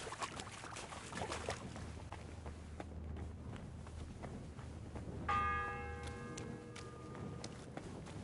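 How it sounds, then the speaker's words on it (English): A church bell in the video game Kingdom Come Deliverance 2 tolls once with a ringing metallic note that hangs and slowly decays, over quiet ambient noise from the game world. "The first bell."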